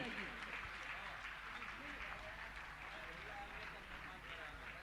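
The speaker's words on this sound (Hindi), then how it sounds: "इनके सम्मान के लिए तालियां बजती रहनी चाहिए" Audience at a Jain religious discourse session applauding to honour new trust members, a steady, dense wash of clapping that stays level throughout, with faint voices underneath.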